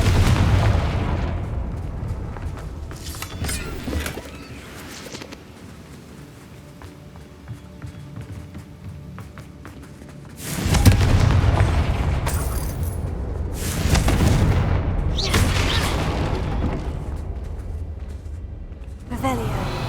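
Confringo fire-blast spells in Hogwarts Legacy burst with loud booming explosions, two heavy blasts plus smaller pops, amid running footsteps and combat noise, with someone speaking at times.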